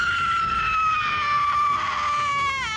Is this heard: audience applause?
no